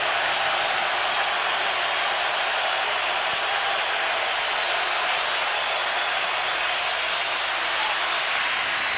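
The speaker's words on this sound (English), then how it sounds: "crowd on its feet." A crowd roars continuously in a domed football stadium during a 2003 Green Bay Packers at Minnesota Vikings game: a steady, loud, broad wash of cheering with no break.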